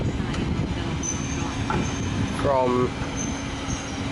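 Shunting locomotive hauling railway coaches, among them a red coach, at Budapest Keleti station: a steady rumble of moving stock with a brief high wheel squeal midway, and a voice speaking briefly over it.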